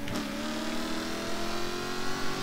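Two sports cars, a Jaguar F-Type P7 and a Porsche Cayman GT4, engines straining steadily at high speed during a final mile drag race, a sustained mid-pitched drone with rising harmonic whine and no talking.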